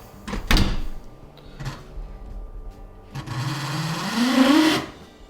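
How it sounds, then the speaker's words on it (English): A Jenn-Air dishwasher's drain pump runs abnormally. After a few clunks and knocks, there is a rising, strained whine that swells for about two seconds and then cuts off. "You hear a sound coming from the drain pump."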